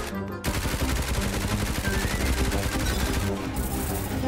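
Rapid automatic gunfire in the Roblox game Paragon while shooting zombies, a dense, continuous burst of loud shots after a brief quiet start.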